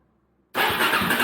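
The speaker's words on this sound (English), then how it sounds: "I'm going to come over here to my Suzuki. my DRZ, let you guys hear how it runs." A Suzuki DRZ 400SM motorcycle fires up suddenly after silence and settles straight into a loud, close, rough idle in the Nevada desert.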